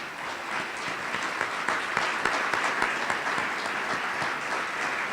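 A sustained round of applause from a dinner audience for state representatives and senators, dense steady clapping filling the room throughout.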